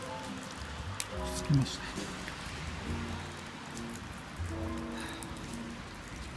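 Rain falling on a bridge at a rainy riverside campsite, a steady dense patter close around, with someone speaking briefly over it.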